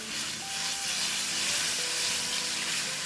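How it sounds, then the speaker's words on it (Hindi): Chopped garlic sautés in about four tablespoons of hot oil, giving a dense, bright hiss and sizzle that stays loud and steady throughout, close up with no talking. "इसको हल्का सा सौटे करेंगे"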